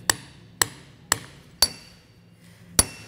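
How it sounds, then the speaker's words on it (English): Five sharp metallic hammer taps drive an SKF full-float axle seal home, evenly spaced at first, then a pause before the final ringing strike, close and clear. "use our hammer, tap it in"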